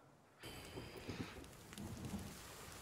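Rain and thunder from the survival video game The Forest start suddenly after a brief hush. Steady, dense rain hiss is joined by rolling low thunder that swells and fades, all fairly faint, with no talk.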